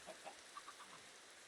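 Minecraft chickens give a few soft, short clucks in quick succession, faint against a quiet hiss.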